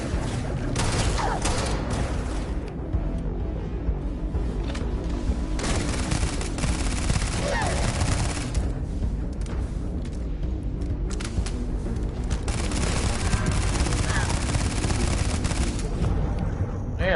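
Dense, continuous gunfire from the Starfield video game rattles in loud rapid bursts, with brief lulls between volleys, and no voice over it.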